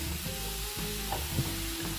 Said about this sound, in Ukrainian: Перемішую і на середньому вогні смажу до готовності